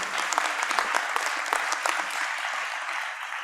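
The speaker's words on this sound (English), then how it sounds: "Let's give him a round of applause for all of his leadership." An audience claps steadily for a few seconds, a dense, even patter of many hands.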